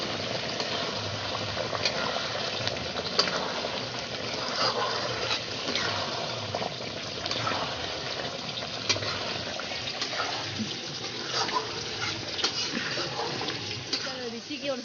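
Meat simmering in water in a pot for a Bhogali Bihu feast, a continuous bubbling, watery churn at moderate level, with a voice talking intermittently over it.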